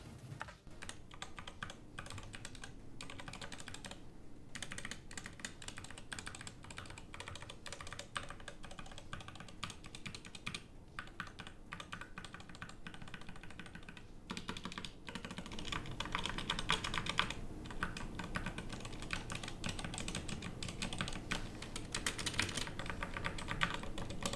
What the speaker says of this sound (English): let's do a little bit of a sound test and see how those Gateron switches sound on this keyboard